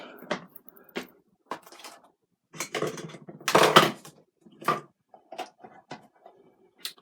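Clattering dishes and metal cookware as a dish is put into a home kitchen oven, a series of separate knocks and clanks with a louder scraping rattle in the middle.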